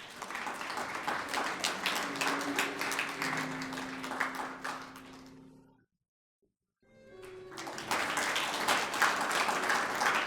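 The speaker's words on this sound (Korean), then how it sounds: "박수로 맞이해 주십시오" Ceremony audience applauding to welcome a speaker at a Cheongsanri battle victory anniversary commemoration, a broad crowd of claps that stops into a brief silence, then swells back up just as full.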